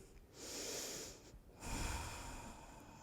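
Slow, deep breaths during a yoga stretch: a long airy inhale followed by a fuller exhale through the nose, close and quiet, with no talking.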